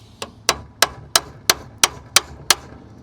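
Eight sharp, evenly spaced hammer blows strike boat trailer bunks to knock them level, each a loud close metallic-wooden crack with a quick decay, about three per second.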